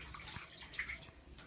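Water drains out of a small pipe on a toy dollhouse, a faint, close trickle and splash lasting about a second and a half.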